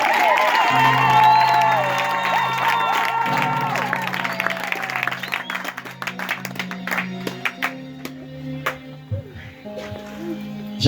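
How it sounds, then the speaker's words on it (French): A church congregation applauds and cheers for the Lord during a worship service, with clapping and whoops over sustained organ or keyboard tones and singing voices, the applause thinning toward the end. "Acclamons le Seigneur."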